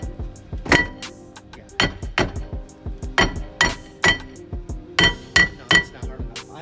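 Sharp metallic clanks from repeated hammer blows on the rear brake rotor of a 2015 Dodge Challenger Shaker, about a dozen strikes in an uneven rhythm, close and ringing.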